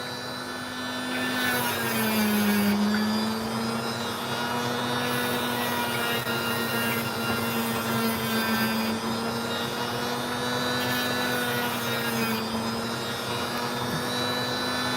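A small opal stone being cut on a lapidary machine, producing a steady, loud motorized whine with a sustained hum and shifting grinding tones throughout, no talking.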